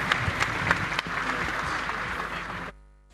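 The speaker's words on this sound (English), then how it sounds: "Ladies and gentlemen, please, a round of applause for my panelists this morning." Audience applause for the panelists at a 5G technology launch event in Ghana: dense, steady clapping from a crowd for under three seconds, then cut off abruptly into near silence.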